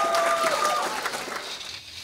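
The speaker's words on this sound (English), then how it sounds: "Keep that round of applause going" Audience applause at a comedy show, a brief dense burst of clapping with a few whistles that fades out over two seconds.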